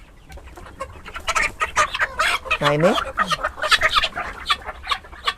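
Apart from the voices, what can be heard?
guinea fowl calling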